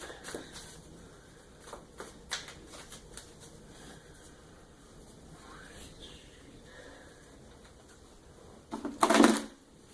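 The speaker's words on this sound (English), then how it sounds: "shuffle it up" Deck of Oracle cards being shuffled by hand, a run of quick soft riffling and tapping bursts that ends in a louder, sharper flurry, close and fairly quiet with no voices.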